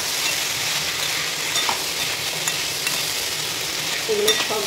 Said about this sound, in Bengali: এগুলো সব ভালোভাবে একটু ভেজে নেব।